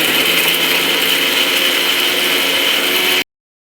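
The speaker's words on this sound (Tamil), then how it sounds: "இப்போ எல்லாத்தையும் எடுத்து மிக்சியில் போட்டுக்குங்க." A kitchen mixer grinder roars loudly and steadily while blending beetroot chutney, then cuts off abruptly after about three seconds.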